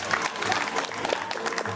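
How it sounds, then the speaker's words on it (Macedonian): Audience applause at a music revue in Makedonska Kamenica, a brief burst of many hands clapping at a steady level, with some background voices. "Еден аплауз за нив."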